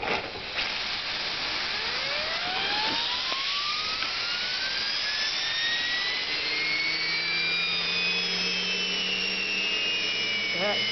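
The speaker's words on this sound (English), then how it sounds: "we'll just do one last run of the turbine" A model steam engine's turbine runs under good pressure with the safety valve venting, giving a loud, steady high whine that sweeps upward as it spins up and holds alongside a constant hiss throughout.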